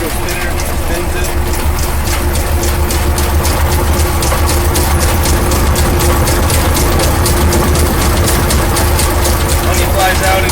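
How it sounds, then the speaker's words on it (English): A centrifugal honey extractor spins four frames of honey in a steady, continuous low whir and rumble that stays loud and even throughout, with a faint rhythmic pulsing from the rotation. "There's 4 frames in this extractor, and we're going to turn it on and extract the honey."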